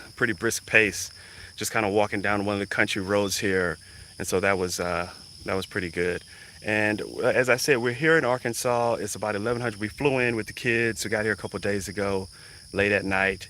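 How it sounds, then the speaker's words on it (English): Cicadas and crickets on an Arkansas farm give a steady high-pitched buzzing drone in the background, constant throughout while someone talks over it. "Those are cicadas and crickets."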